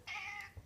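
A calm cat lets out a single short meow, close and fairly quiet, followed by a brief soft sound with no voices.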